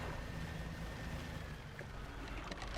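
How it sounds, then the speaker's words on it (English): Water moving through mangroves in the Dredge fishing video game, a soft continuous wash and lapping flow at low level, steady and ambient with no talk. "Okay, so that's what the water moving sound is. It's the mangroves."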